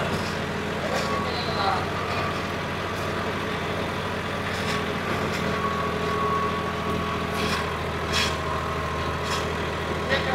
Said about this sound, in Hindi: ट्रैक्टर भी बढ़िया चल रहा है